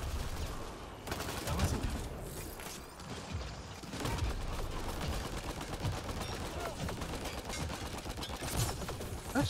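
Rapid automatic gunfire and mechanical weapon clatter in the sci-fi shooter Mass Effect Andromeda, with dense bursts of shots continuing loudly throughout.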